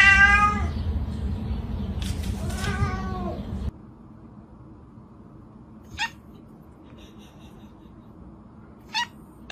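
A cat meows loudly a few times in drawn-out, wavering cries, then quiet background with a couple of brief, faint chirps.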